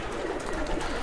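A Madrasi pigeon coos softly and continuously, close by, over a steady background hum.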